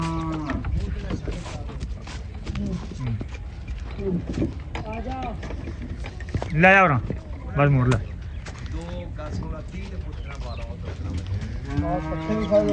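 Buffalo at a livestock sale give two loud moos close by, one low and drawn out and one shorter, while someone talks throughout and hooves and handling noises sound around them.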